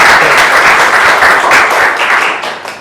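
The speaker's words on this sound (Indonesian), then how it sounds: "Berikan aplaus dulu untuk Angga." Audience applause for a student named Angga at an Indonesian learning-assessment session, a brief burst of dense clapping from a crowd that fades out over a few seconds.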